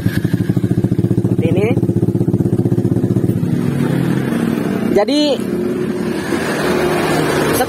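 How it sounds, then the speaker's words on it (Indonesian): A motorcycle electric starter cranks with a fast rhythmic whirring, then the engine catches and settles into a steady idle, loud and close, with someone talking briefly over it. "Nyalakan kunci, kita coba dulu starternya"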